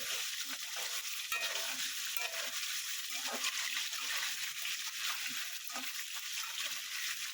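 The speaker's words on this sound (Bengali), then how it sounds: "আলুটা দিয়ে আলুটাকে একটু ভাজা ভাজা করে নেব।" New potatoes frying in a pan after a kalo jeera tempering: a soft, even hiss of hot oil with faint bubbling and light stirring knocks, quiet and steady.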